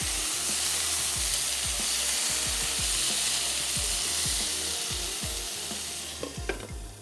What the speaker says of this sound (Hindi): यहाँ पे चिकन को थोड़ा सा टर्न कर देते हैं। दूसरी तरफ से भी हल्की सी ये पक जाए।